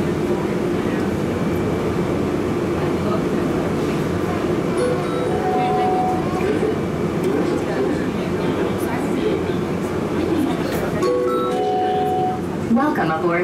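Hartsfield-Jackson Atlanta International Airport Plane Train people mover running between concourses, a steady loud rumble of rail motion with faint clinks and brief chime tones, with an announcement voice over it.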